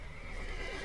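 A horse in the video game The Witcher 3 gives a short, fairly close whinny that lasts under a second over low game ambience.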